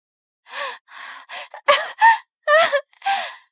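Gasps and strained, moaning breaths from a young girl struggling to breathe, several sharp, labored bursts with short pauses between them, close and fairly loud, no talking.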